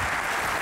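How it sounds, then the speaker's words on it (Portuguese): Dense, loud applause from a crowd fills the whole moment, clapping for students at a university talk event. "uma grande salva de palmas a todos os estudantes"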